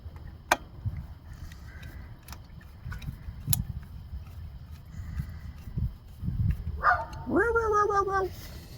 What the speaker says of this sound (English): Little doggy.